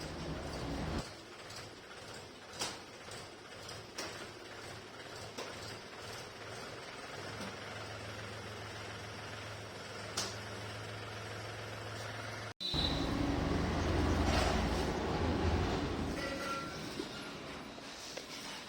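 A tractor engine runs steadily on a village farm while it stands loaded with two days of collected cow dung, a continuous mechanical rumble that grows louder and closer near the end.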